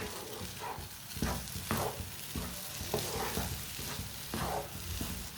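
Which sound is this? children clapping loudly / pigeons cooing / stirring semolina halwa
stirring semolina halwa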